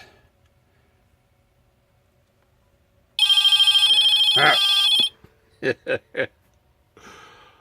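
An old telephone rings through a retro Radio Shack phone flasher, giving one loud electronic ring burst lasting about two seconds, followed by a few short tones and a faint trailing sound in a quiet room.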